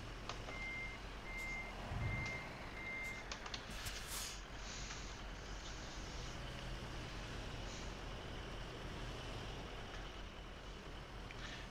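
Evenly spaced reversing beeps repeat four times from a truck backing up in Euro Truck Simulator 2, a Scania at night, clear above a steady engine drone and road rumble.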